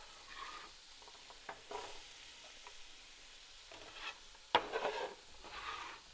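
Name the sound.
onion, carrots, celery and shallots sautéing in a pan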